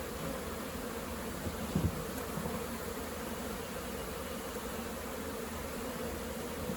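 A very strong honey bee colony of around 40,000 bees drones inside a shed, a dense, continuous buzz holding steady throughout with one brief knock near the start.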